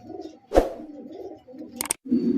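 A pair of Sirazi pigeons coo softly at close range, low gurgling calls running throughout, broken by a sharp knock and a quick double clatter of wings or movement.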